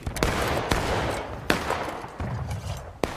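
Musket fire crackles across a video game skirmish, with scattered loud reports ringing out irregularly over a constant rumbling battle din, some shots sharp and near, others more distant.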